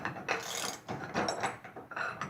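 A press works a piston off its connecting rod from a 4.8 LS engine in a 1999 Firebird, giving close, rhythmic ratcheting and creaking pulses roughly every half second.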